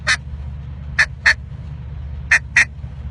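Five short, deep clucks blown on a duck call in uneven pairs, punchy and close, over a low steady background hum.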